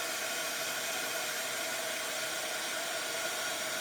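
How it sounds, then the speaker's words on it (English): Heat gun blowing hot air for clear embossing powder on a card: a steady, loud, broadband whooshing hiss that stays constant from start to finish with no talking. "Just while I get the heat gun going."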